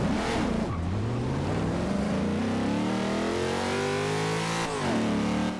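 A car in the video game Forza Horizon 2 accelerates hard on a speed run, its engine note climbing steadily and loudly before a gear change near the end, then rising again. No one talks.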